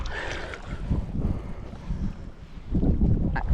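Strong, steady wind gusts buffet the microphone while out on open water from a small boat on a mountain lake near Estes Park, Colorado, a continuous roaring rush with heavier surges toward the end.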